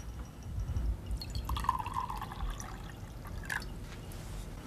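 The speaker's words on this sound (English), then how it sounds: "I'm going to put in there some distilled water, pure water." Distilled water poured into a laboratory beaker for a conductivity demonstration, heard as faint trickling and dripping with a few light glassy splashes over quiet background hiss, no talking.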